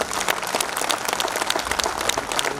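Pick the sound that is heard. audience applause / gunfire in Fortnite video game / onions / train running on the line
audience applause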